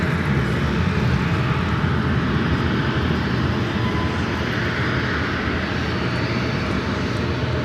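An airplane takes off from runway 19 at LAX, giving a loud, continuous engine roar that stays steady throughout, with no voices over it.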